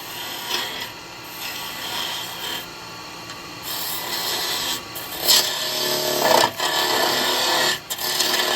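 A woodturning tool cuts into a spinning wooden box blank on a lathe for a snowman lidded gift box, a steady close scraping rasp that swells and dips with the pressure across several seconds, without any talk.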